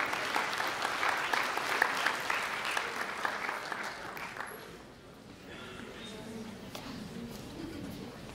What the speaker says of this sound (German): dann nochmal einen Applaus für die beiden